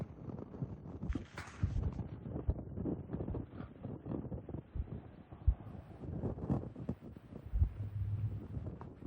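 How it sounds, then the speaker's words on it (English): Gusty wind buffets the outdoors during a hunt, producing a low, rumbling microphone roar that rises and falls unevenly, with faint rustling and no voices. "It's getting windy"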